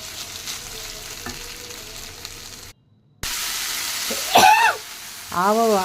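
Ingredients fry in a pan for jackfruit curry, a steady close sizzle with stirring, briefly cut to silence midway and then resuming, while a voice speaks over the cooking.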